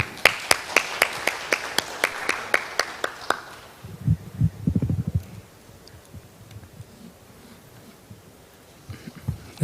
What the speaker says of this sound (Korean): 여러분 박수 보내주시기 바랍니다